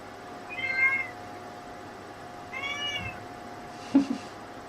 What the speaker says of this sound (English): And the cat agrees with me.